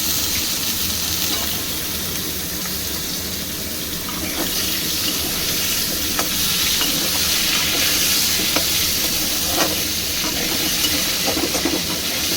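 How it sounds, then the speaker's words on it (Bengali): Potatoes and long-cut radish frying in oil give a steady, dense sizzle throughout, with occasional soft clicks of stirring near at hand and no talk. "এবারে আমি আলু আর মূলো যে এই যে কেটে রেখেছি সেটা ছেড়ে তেলেতে একটু খুব ভালো করেই ভাজবো"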